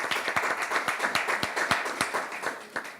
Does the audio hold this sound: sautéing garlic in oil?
no